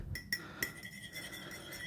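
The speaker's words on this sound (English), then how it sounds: "you just want to whisk it up" A fork whisking an egg in a frying pan, heard as a few sharp metallic clinks and taps up close, followed by a faint ringing tail.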